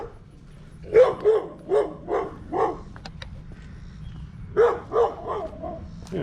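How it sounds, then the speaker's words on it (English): A dog barks in two bursts of sharp, rhythmic yaps, five in quick succession and then three more after a short pause, fairly close and loud in an outdoor cemetery in Raleigh, North Carolina. "you must bark at people all the time"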